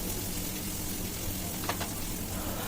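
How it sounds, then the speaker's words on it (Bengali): Onion, cumin and dried chilli fry in a hot kadai, giving a steady close crackle and sizzle with a faint scrape partway through. "আমি পেঁয়াজ, জিরা আর শুকনো লঙ্কা দিয়ে ফ্রাই করে নিচ্ছি।"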